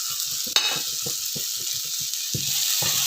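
Dried red chillies sizzling in oil with softened onions for chicken gravy, a bright hiss after a sharp drop-in crackle, with soft repeated stirring taps beneath.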